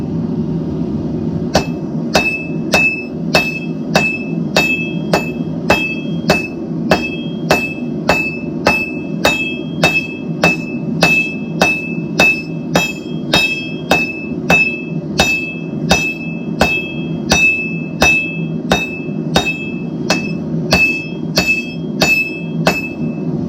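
Hammer beating steel on steel at a forge in a blacksmith's open shop, a long run of loud, evenly spaced ringing metallic strikes, close and unbroken by talk.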